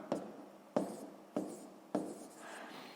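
Chalk or pen writes on a board or paper during a sixth-grade math lesson, giving four quiet scratchy strokes, each opening with a light tap, in an even rhythm.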